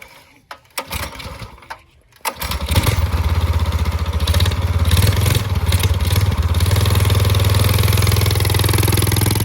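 An old motorcycle being kicked over and started, sputtering a few times before catching into a loud, steady, close-range engine rumble that holds and slightly rises as it is ridden.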